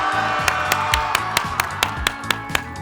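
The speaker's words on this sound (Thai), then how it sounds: "ขอเสียงปรบมือต้อนรับคุณจ๊อบหน่อยเลย" A few people clap in a steady rhythm to welcome a guest arriving at a family home, with a constant hum and music-like tones running underneath.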